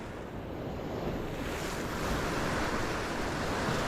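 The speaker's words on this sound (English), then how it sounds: "Oh, big old wave." Big ocean waves surge at dawn on a shoreline used for bass fishing, a loud continuous roar of surf and wind that swells gradually, with no voices.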